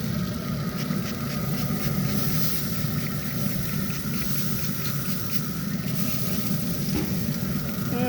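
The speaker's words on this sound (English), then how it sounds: "We're gonna hit it with a little bit of this, I can't believe it's not butter, to make it have a little bit better crust." Steady, close sizzle as I Can't Believe It's Not Butter spread hits a spatchcocked 22 lb turkey on a Traeger smoker, crackling evenly throughout with a soft windy hiss behind it and no talking.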